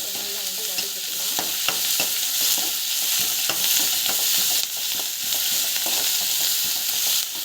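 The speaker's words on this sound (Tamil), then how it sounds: "கொத்தமல்லி நல்லா வந்து வதக்கிக்கலாம்" Tomato and fresh coriander sauté in a pan for a rava vegetable kichidi, giving a steady, close sizzle broken by frequent spatula scrapes and taps, with no voices.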